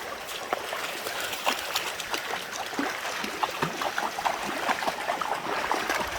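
A creek current flows steadily outdoors with continuous broadband rushing, broken by small splashes and gurgles, at moderate distance and with no voices.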